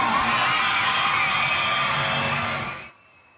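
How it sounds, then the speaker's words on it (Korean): A crowd at a school sports day relay race cheers and whoops loudly at close range, and the cheering cuts off abruptly near the end. "마지막 바퀴에 청팀의 대역전극이 펼쳐지자 함성이 터져나옵니다"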